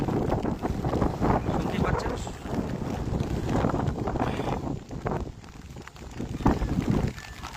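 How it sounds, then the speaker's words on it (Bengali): Strong wind gusts across an open riverside on the Dwarakeswar river at Arambagh, swollen after days of low-pressure rain, buffeting the microphone with a steady loud roar that dips briefly before surging again. "প্রচুর পরিমাণে হাওয়া দিচ্ছে"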